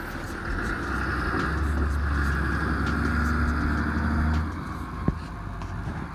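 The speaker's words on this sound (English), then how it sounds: "I'm pretty sure that's the UPS truck bringing my shoes." A UPS delivery truck pulls away outside, a steady low engine rumble that holds for several seconds, then drops off as it leaves, with a brief sharp knock near the end.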